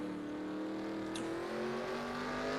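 Simulated stock race car engine from NASCAR Racing 2003 holding a steady high-revving drone near 7,500 rpm, continuous and loud with a slowly rising pitch and no talk over it.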